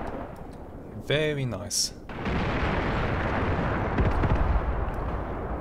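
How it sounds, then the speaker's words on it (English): Artillery shells exploding in the WWII tactical game Graviteam Tactics: Mius Front: a steady, loud rumble of blasts and gunfire that builds after a brief spoken comment and continues, with a sharper burst near the end. "More artillery keeps hitting the enemy and gradually forcing him back."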